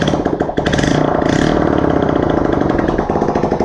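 A Suzuki GS 125 motorcycle engine runs steadily close by, a loud continuous mid-pitched putter with a slight rev rise near the start and no voices.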